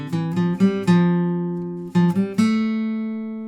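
Guitar picking single sustained notes from a song's solo, a few plucked notes ringing out clearly in two short phrases, close and alone.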